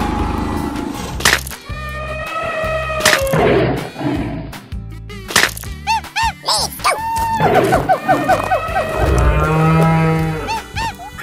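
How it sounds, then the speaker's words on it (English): Cow moos among a lively sequence of cartoon animal sounds, with rising, wavering calls and other playful noises around it, fairly loud throughout. "cow,"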